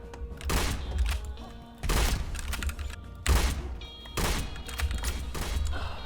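The Stevens DB double-barrel shotgun fires in Phantom Forces, with heavy booming blasts coming in regular pairs about every one and a half seconds, each blast followed by a short rumbling tail.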